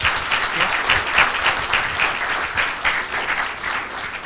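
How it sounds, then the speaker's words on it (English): A live audience at a business networking meeting in Mumbai breaks into steady, dense applause that sustains evenly throughout without pause. "Can we begin with a huge round of applause for Dr. Misner?"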